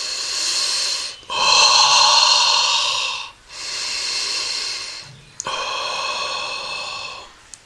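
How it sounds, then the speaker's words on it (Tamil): Slow, deep breaths during a meditation practice, four long airy inhalations and exhalations in a steady rhythm, close and clearly audible with no talking. "கண்ணை மூடி மூச்சு இழுத்து விடுங்க"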